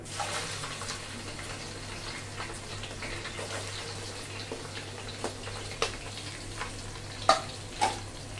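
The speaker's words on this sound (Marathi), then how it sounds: "गाजर आणि सिमला मिरची ती तळून घेऊया." Carrots and capsicum frying in a pan for navratan pulao, giving a steady low sizzle with occasional soft stirring clinks and taps, close and fairly quiet, with no one talking.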